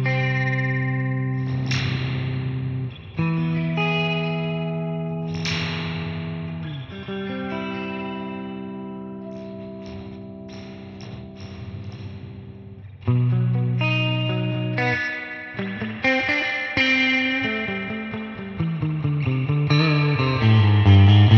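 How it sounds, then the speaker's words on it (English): Fingers touching the springs inside a SurfyBear Reverb Compact spring reverb unit produce a string of metallic clanks and boings with long, echoing, drawn-out decays, like a surf guitar tone. The hits start sparse, then grow dense and louder toward the end. "if you touch the springs, you can create really strange noise."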